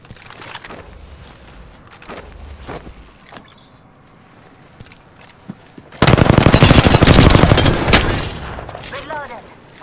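Gunfire in the video game Apex Legends, with scattered single shots and short bursts early on, then a loud sustained automatic volley from about six seconds, over game voice lines.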